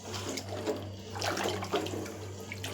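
Water runs and splashes steadily while a mixer jar is rinsed and poured out for rasam, with a low hum from the kitchen underneath and no talking.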